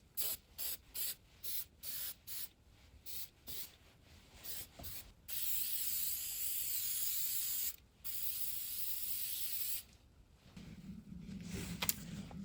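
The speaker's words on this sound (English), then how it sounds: "Spraying a bit of shellac before I paint." Shellac sprayed from an aerosol can onto a wooden clover-leaf table: short hissing bursts in a quick rhythm, then longer continuous sprays with brief pauses, close and fairly quiet.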